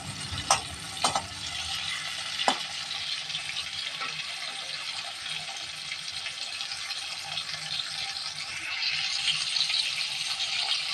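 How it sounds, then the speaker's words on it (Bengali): Prawns frying lightly in hot mustard oil give a continuous soft, even sizzle, fairly quiet and steady, with a few sharp clicks near the start and a slight rise in hiss toward the end; no voices. "সর্ষের তেলটা গরম হয়ে গেলেই এর মধ্যে চিংড়ি মাছগুলো ছেড়ে দিয়ে ভেজে নেব"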